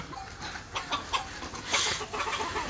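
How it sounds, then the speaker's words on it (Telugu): Free-range country chickens on a farm cluck intermittently nearby, soft and scattered over a light background hiss. "నేను గేట్ తెరుస్తున్నాను ఇక కోళ్ళు వచ్చేస్తాయి ఇప్పుడు బయటికి"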